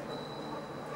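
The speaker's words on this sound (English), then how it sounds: "You can hear the noise of the train." Rolling stock passes on railway tracks on a cold day, a steady rumbling roar with a thin, sustained wheel squeal riding above it, loud and continuous.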